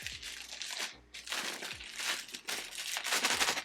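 Plastic packaging bag for a Selkie and The Last Unicorn collaboration item crinkles and rustles loudly up close as it is torn open, in continuous bursts with a brief pause.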